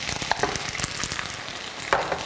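Fresh in-season webfoot octopus goes into a pan with fried rice over moderate heat, giving a bright close crackling sizzle with quick spatula scrapes and tosses.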